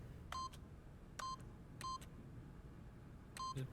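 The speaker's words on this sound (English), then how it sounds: "by simply pushing random buttons on the keypad" Keypad buttons pressed in The Stanley Parable video game, four clean electronic tone-beeps spaced about half a second to a second apart, faint and alone.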